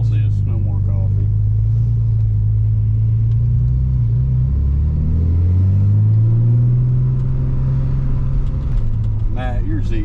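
A turbocharged Nissan 300ZX conversion drives along with a steady low engine drone that swells and rises in pitch as it accelerates, while people talk over it inside the car.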